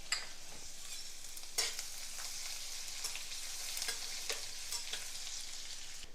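Garlic and grated ginger frying in oil for a Gujarati dal tempering, a continuous soft sizzle broken by repeated sharp spoon scrapes and clinks against the pan, with no voices.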